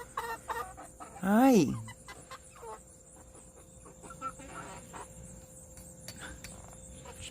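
Backyard chickens cluck close by, with one loud rising call, then quieter scratching and pecking sounds around a tripod, and a person briefly speaks.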